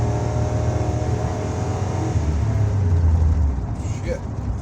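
A truck with a rebuilt Ford 4R100 automatic transmission drives along a highway, its steady engine drone shifting pitch as the gearbox makes a firm downshift, with road noise throughout and people talking inside the cab.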